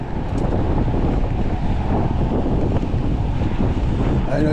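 Wind roars across the microphone during an e-bike ride on a cold day, a loud, constant low buffeting rumble that covers the whole stretch with no break.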